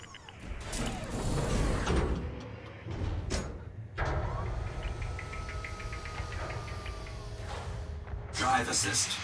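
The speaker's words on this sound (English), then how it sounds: "Landing gear retracted." Spaceship landing gear retracting in Elite Dangerous Odyssey, a mechanical whir and clunk layered with a steady ship hum and tonal whine, with a voice talking over part of it.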